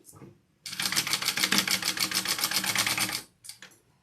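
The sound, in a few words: sewing machine stitching fabric right sides together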